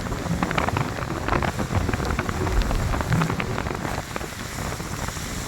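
Steady rain hisses and patters across the whole stretch during a motorbike ride, mixed with rushing wind noise, and no voices are heard.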